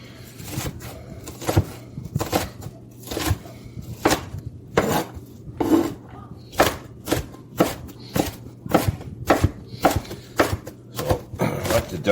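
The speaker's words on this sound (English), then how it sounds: "we'll get started by chopping up the onion, getting that all diced up nicely" A knife dicing an onion on a cutting board in a quick, uneven series of sharp close taps, steady throughout with no talking.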